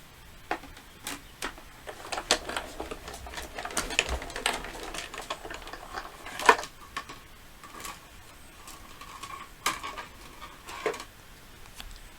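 A sewing machine stitching a label onto paper, heard as a rapid, uneven run of light mechanical ticks and clicks at close range, quiet overall with occasional louder clacks and no talking.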